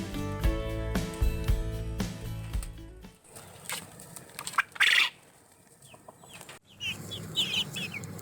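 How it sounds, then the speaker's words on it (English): Quail in a large walk-in backyard cage on a smallholding give short, sharp clucking calls and a burst of wing fluttering nearby, after a stretch of tonal music fades out. "Come on in and meet the quail."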